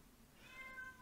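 A house cat gives one faint, drawn-out meow against a quiet indoor background, with no talking over it.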